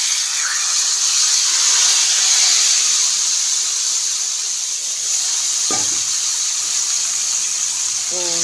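Hot tadka tempering sizzles steadily as it is poured onto kadhi, a bright, even hiss that fills the clip, with a couple of brief clinks late on.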